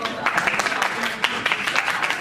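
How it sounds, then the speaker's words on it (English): Short burst of applause at a school prize-giving ceremony for a winner, a few hands clapping close by in a brisk, uneven patter with a voice over it. "A round of applause for her, guys."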